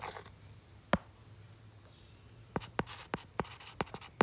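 Chalk tapping and scraping on a board in a classroom, a lone stroke near the start, then a quick series of sharp, distinct taps and strokes close by with no talk.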